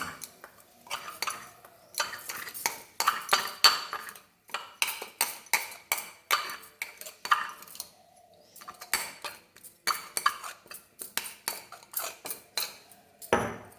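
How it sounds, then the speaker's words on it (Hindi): Dried kasuri methi (fenugreek leaves) being crushed and mixed in a bowl while making garlic paratha, heard as a steady run of crisp scraping, clinking strokes, close and fairly quiet, with brief pauses between bursts. "इसको आप इस तरह से मिक्स कर दीजिए और ये इस तरह से क्रश हो जाएगा"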